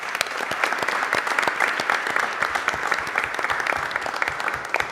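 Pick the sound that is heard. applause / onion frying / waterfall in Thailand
applause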